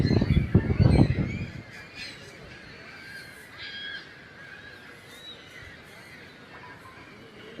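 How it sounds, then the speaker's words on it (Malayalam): A flock of birds calls noisily at Niagara Falls, with chirps and honk-like cries layered over a steady background rush, after a loud low rumble at the start. "ശരിക്കും കിളികളുടെ സൗണ്ട്, കിളികളുടെ ഭയങ്കര നമ്മുടെ സമ്മേളനമൊക്കെ നടക്കും പോലെയുള്ളൊരു സൗണ്ടാട്ടോ ഇവിടെ."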